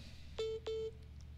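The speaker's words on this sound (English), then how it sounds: "let me get Naomi on the phone." Two short telephone dialing tones, identical steady beeps in quick succession, faint and close, with no talk.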